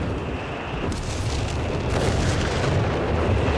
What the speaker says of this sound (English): So much artillery there. Airburst shells as well.